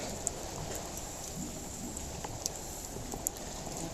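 Steady rain hisses and patters on surfaces, with a few sharper drips standing out; quiet and continuous, no voices.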